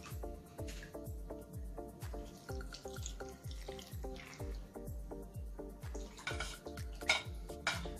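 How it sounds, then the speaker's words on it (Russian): Brine marinade with mustard and peppercorns for pickled hot peppers pours into jars in a steady, rhythmic run of glugs and drips, with light glass clinks throughout. "Теперь аккуратненько наполняем банки рассолом"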